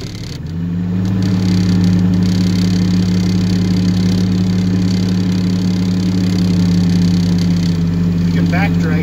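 A Kubota tractor engine running steadily during plowing, a loud, even mid-pitched drone that rises at the start and then holds close and constant.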